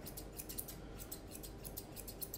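Grooming scissors snip through a poodle's hair around the ear and top knot in a quick, even series of about a dozen quiet, close cuts with no talk.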